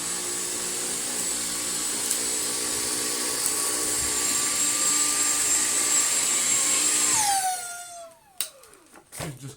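A Dyson V6 Absolute cordless bagless vacuum cleaner runs with a loud, steady high-pitched whir, then powers down with a falling whine, followed by a few clunks and handling knocks nearby.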